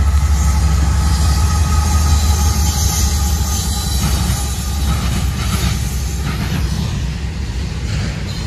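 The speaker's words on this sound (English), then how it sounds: "we got a Norfolk Southern westbound train coming down the line" A westbound Norfolk Southern freight train rumbles past at close range, a heavy steady low roar with rail noise layered on top, fading gradually toward the end.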